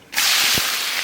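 Chopped onion hits hot mustard oil in a wok with a sudden loud sizzle that stays as a steady, bright hiss.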